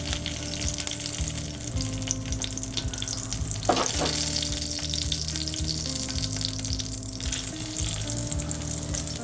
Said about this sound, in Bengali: তেলটা গরম হয়ে গেছে, এবার আমি তেজপাতা দিলাম।